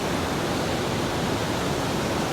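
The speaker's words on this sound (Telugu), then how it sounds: "వాటర్ సౌండ్ అయితే క్రేజీగా ఉంది" Loud, steady roar of rushing water from Kaigal Falls, a dense unbroken wash of sound close by with no pauses and no voices.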